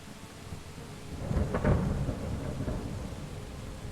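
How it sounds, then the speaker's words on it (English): Thunder rolls through a video game storm, a single swelling rumble peaking near the middle over steady rain, fairly close and alone. "this huge storm started"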